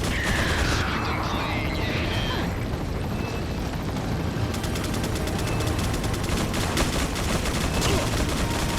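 Sustained gunfire fills a minigunner turret sequence in Resident Evil 4, a dense, continuous roar of rapid shots with mechanical rattling throughout.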